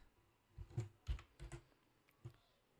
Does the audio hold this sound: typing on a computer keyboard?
yes